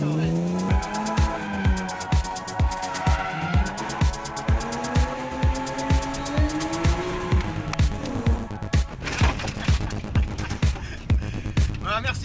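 A BMW M3 race car drifts on a track, its engine droning and revving while tires squeal, with a rapid rhythmic pulsing throughout and people talking over the car noise.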